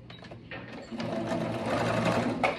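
A domestic sewing machine backstitches the seam of an adjustable kitchen apron, humming steadily up close as the stitching speeds up, with a few light clicks near the start.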